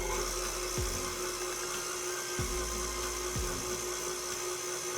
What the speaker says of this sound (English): So now we're going to plug up the mixer, and we're going to blend the oil and butter.